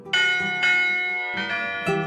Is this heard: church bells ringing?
yes